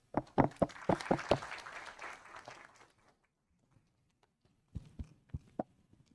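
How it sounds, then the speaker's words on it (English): Applause for a panel of speakers at an energy efficiency workshop: a loose burst of claps for about three seconds, fading out, then a few scattered single claps after a pause. "why not we just give applause to our best speakers, 3 best speakers"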